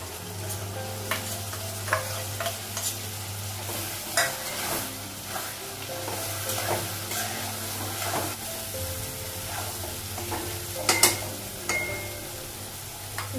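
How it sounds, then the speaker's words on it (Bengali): Ground spices with ginger paste and garlic paste fry in oil after browned onions, stirred with repeated scraping clicks over a steady close sizzle and a low hum throughout. "আর এখানে আদা বাটা আর রসুন বাটা দেবো।"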